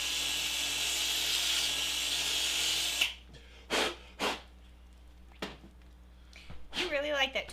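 A power sanding tool scratches against a part in a workshop, with a steady loud grinding hiss for about three seconds, then stopping; after it come several short separate bursts, with voices talking near the end.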